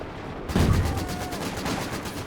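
A sudden loud blast from infantry support gun fire in Company of Heroes 2, a heavy boom breaking in after a moment and trailing into a rumbling, crackling tail.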